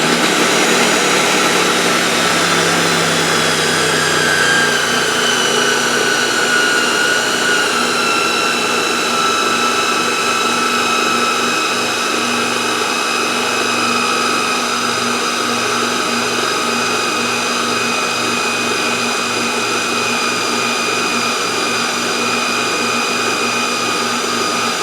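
An electric mixer whirs steadily, loud and close, while it mixes blueberry and cranberry muffin batter made from scratch with milk and vanilla, its motor drone holding constant throughout with a slight dip in pitch near the start.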